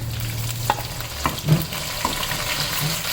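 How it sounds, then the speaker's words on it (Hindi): Chicken and onions fry in a pan for chicken yakhni pulao, a steady sizzle broken by a few clanks and scrapes of stirring, close and fairly loud with no talking. "चिकन को थोड़ा सा भून लेंगे प्याज के साथ।"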